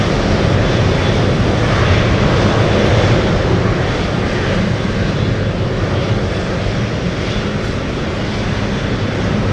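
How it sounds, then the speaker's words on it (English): A Learjet arriving from Seattle roars loudly as it comes in to land at Anchorage, with a broad, sustained engine rush that stays strong and even throughout. "Flying in from Seattle, Washington. It's a Learjet."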